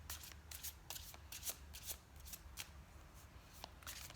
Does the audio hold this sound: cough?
no